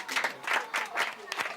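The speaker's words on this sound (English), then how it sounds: "Give him a round of applause." A short round of applause from a small crowd at a board game show, brisk clapping in a few waves, fairly quiet.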